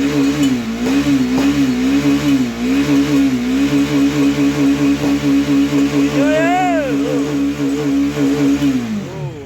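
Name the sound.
400cc motorcycle engine revving loudly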